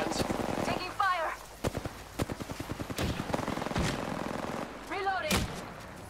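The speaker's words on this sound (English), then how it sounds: "I am taking fire, friends. Taking fire!" Rapid gunfire from an Apex Legends firefight, a run of sharp evenly spaced shots in the middle of the clip with scattered bursts around it, loud and close, with a voice talking over the action.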